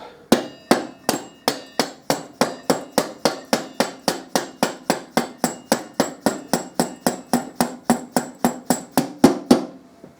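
Rapid, evenly spaced taps of a nylon hammer on a motorcycle part, about three per second, sharp and close, repeating steadily for around ten seconds with no talking.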